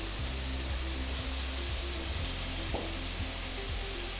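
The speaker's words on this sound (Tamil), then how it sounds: "இதில் வந்து இப்போது ஒரு கப் பீன்ஸ் போடுறேன்" Beans go into a ground paste frying in ghee and oil for vegetable biryani, giving a loud, steady hiss of sizzling with a few soft thuds and stirring scrapes.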